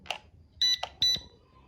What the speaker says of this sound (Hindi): देखिए ये भी चालू हो गया है, जो बीप बीप की आवाज़ कर रहा है।